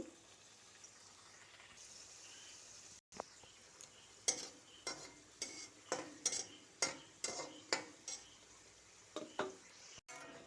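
Khaja pastry frying slowly in oil on a low flame, a soft, quiet bubbling under a series of about a dozen rhythmic stirring or scraping knocks from a utensil against the pan.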